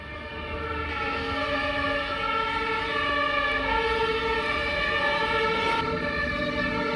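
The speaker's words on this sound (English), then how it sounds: "Now the fire brigade is also showing up." A fire brigade siren wails along a Stockholm street, a loud, steady tonal blare with strong harmonics that holds for several seconds over background city rumble.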